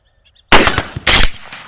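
Two loud gunshots ring out during a night coyote hunt, close and booming, each a sudden blast with a short rumbling tail, the second following about half a second after the first.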